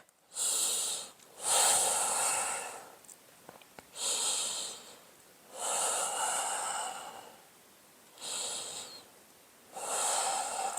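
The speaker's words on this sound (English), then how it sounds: "And breathe." Slow, deep breathing during a yoga session, audible breaths repeating every couple of seconds with soft hissing inhales and exhales, close and alone without talk.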